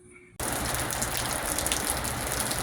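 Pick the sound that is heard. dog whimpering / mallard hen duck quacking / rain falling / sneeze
rain falling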